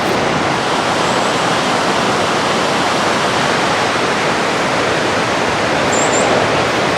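Ocean surf on the South Coast washes in as a loud, continuous roar of breaking waves with no pauses.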